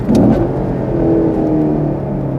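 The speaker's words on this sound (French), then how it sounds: "Regardez, je rétrograde. Pas d'un coup. Bon, je freine fort là." A Chevrolet Camaro engine roars loudly up close, revving in a sustained blare as the driver downshifts under hard braking, with no talking heard.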